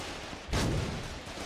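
A single sharp burst of gunfire rings out in the Foxhole video game, quick and fairly distant, then decays into a lingering rumble against a quiet background.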